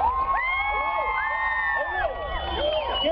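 A concert crowd of young fans cheers and whoops for Disney stars on stage in Kansas City, with high shrieks rising and falling over a loud, continuous roar.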